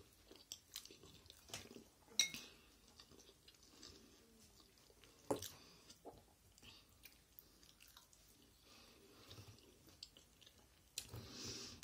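Close, quiet chewing of pelmeni dumplings with salad, soft wet squishes and occasional crunchy bites spread unevenly across the stretch with brief louder clicks between them.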